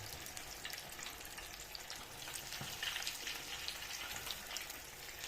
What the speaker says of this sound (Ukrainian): Пока ножки наші жаряться.